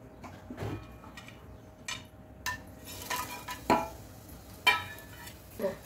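Whole spices, including black cardamom, bay leaf, cinnamon and cloves, are dropped into hot ghee in a pan. Sparse, light clinks and taps come one at a time, fairly faint, with little sizzle.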